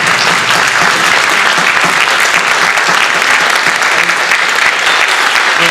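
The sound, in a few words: audience applause at jazz camp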